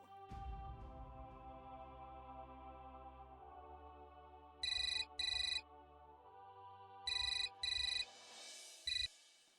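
A telephone rings in short, bright double bursts, two pairs and a last single, cutting in over a soft sustained music bed, clear and close.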